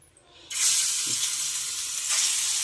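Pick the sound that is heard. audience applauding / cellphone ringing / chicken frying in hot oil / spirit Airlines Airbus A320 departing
chicken frying in hot oil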